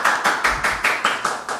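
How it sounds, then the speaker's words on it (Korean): An audience claps in a steady, even rhythm, about seven loud, close claps in under two seconds, welcoming guest Woo Won-shik at a Korean political talk event. "박수 부탁드립니다"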